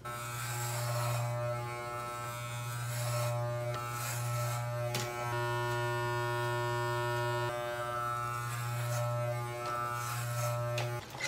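Electric hair trimmer shaping short natural hair for a taper fade, a steady close buzz running almost without pause, with small shifts in pitch as the blades move through the hair.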